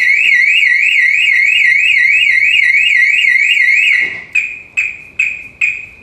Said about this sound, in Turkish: Alarm öttüğü zaman da rapor veriyor.